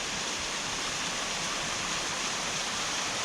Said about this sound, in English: So you can see the waterfall.